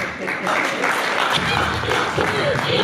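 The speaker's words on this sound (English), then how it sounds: "Y'all clap for them" Audience applause at a free military comedy show in a VA hospital, steady broadband clapping through the whole stretch with voices and crowd noise mixed in.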